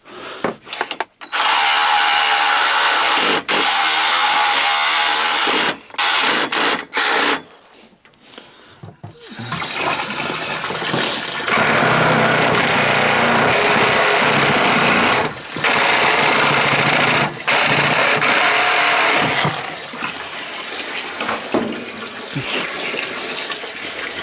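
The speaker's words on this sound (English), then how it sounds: "we're gonna be cutting the vent pipe right there, and then snaking it down. So we're using the Milwaukee hacksaw" A Milwaukee hacksaw cuts through a laundry sink vent pipe, giving loud, sustained rasping strokes after a few short bursts and pauses at the start, continuing steadily with brief breaks.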